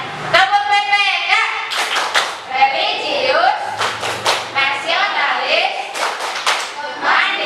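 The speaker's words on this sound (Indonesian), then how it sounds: "Selanjutnya kita akan tepuk PPK." Schoolchildren in an Indonesian classroom perform a PPK clap routine, rhythmic bursts of hand claps alternating with chanted words, with a teacher's voice leading the group.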